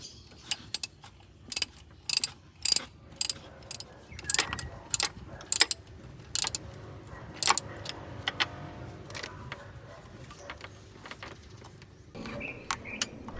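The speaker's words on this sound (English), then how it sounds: "And then we'll use the ratchet to tighten the bolt." Sharp ratchet clicks come in a string of quick, close strokes as a bolt is tightened on a Hyundai Genesis Coupe during a drive belt tensioner replacement, then fade into low handling and tool noise.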